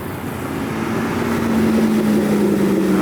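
A Corvette Grand Sport's deep aftermarket exhaust drones steadily nearby at a car meet, a low continuous rumble that swells slightly louder as it goes on, with no talking.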